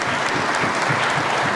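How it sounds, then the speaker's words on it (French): Brief, loud burst of dense audience clapping at a public debate, full and continuous from start to finish. "ça s'applaudit s'il vous plaît"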